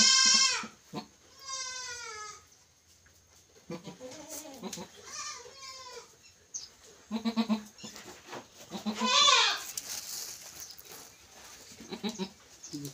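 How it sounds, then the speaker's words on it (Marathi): Goats on a farm bleat repeatedly in wavering, nasal calls, several animals close by, interspersed with quieter rustling and farmyard sounds, with brief pauses between cries. "सुंदर बकरी, त्यांना आता आपण थोडं पाजणार आहे."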